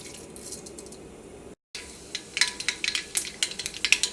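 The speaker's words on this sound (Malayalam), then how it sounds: "ഇപ്പോൾ കടുക് പൊട്ടി തുടങ്ങിയിട്ടുണ്ട്." About a teaspoon of mustard seeds sputter in hot oil, beginning as a quiet sizzle and then breaking into sharp, irregular pops that quicken and grow louder over a few seconds.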